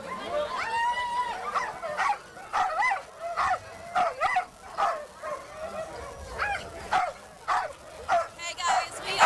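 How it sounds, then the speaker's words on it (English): Sled dogs bark and yip excitedly at the starting line of the UP 200 sled dog race, a dense chorus of overlapping barks and whines continuing throughout. "where the dogs are ready to race. It is so loud up here."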